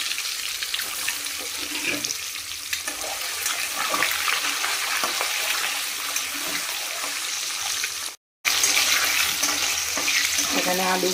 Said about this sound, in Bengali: পেঁয়াজ দিয়ে দিয়েছি, আলু আর পেঁয়াজটা একসাথে ভেজে নেব।